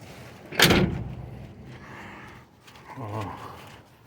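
A door of a 1953 Willys wagon shuts with one sharp, close thud, followed by quieter creaks and clunks as the door is worked again.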